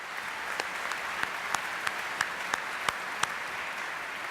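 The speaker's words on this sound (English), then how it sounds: "and let's give them a round of applause." Audience applause for sponsors at a concert send-off event, a steady, moderately faint wash of many hands clapping with a few sharper individual claps standing out near the front.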